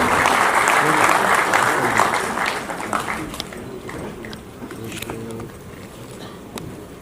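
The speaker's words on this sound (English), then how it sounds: "Can we have a continuous applause?" Conference audience applause for Governor Dr. C. V. Ananda Bose at the 44th Cost Conference 2025 in Dhanadhanya auditorium, a full wash of clapping that fades and thins over several seconds, leaving scattered claps and faint voices.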